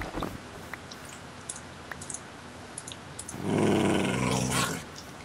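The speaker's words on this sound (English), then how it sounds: "A dog." A dog growls in the blocky survival game Minecraft, a low rumbling snarl swelling loud and close for about a second amid faint clicks and chewing-like game noises.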